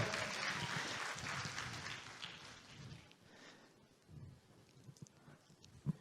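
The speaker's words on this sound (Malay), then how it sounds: "Berikan tepukan pada kru kita." Applause from a studio audience for the crew rises full at first, then thins into scattered, fading claps with a few isolated hand slaps near the end.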